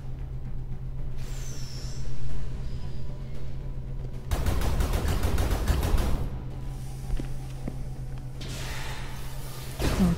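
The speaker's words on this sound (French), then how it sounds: "On leur tire un peu dessus comme ça aussi." Artillery-class weapon fire in the video game Skyforge: a rapid, loud burst of shots in the middle of the clip over a constant droning game background.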